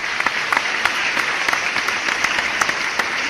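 An audience claps steadily at a formal lecture, a dense, even patter of many hands lasting a few seconds with no voices over it.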